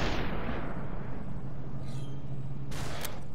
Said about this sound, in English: Please stop shooting at me